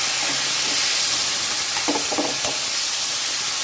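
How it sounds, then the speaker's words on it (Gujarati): Tomato pieces, three medium tomatoes, sauté in a pan while cooking a cauliflower and potato curry, giving a steady close sizzle and hiss with a few brief stirring clatters midway. "આપણે સારી રીતના જ્યાં સુધી ટામેટાં ના ઓગળે ત્યાં સુધી એને સરસ શેકી લઈએ"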